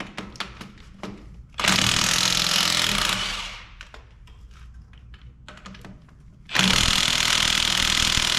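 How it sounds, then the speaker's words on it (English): Rusted service bins being worked on, with sharp scattered metallic knocks and two long bursts of rapid, loud mechanical hammering, close by with no talk. "A little bit of penetrating oil and some hammering."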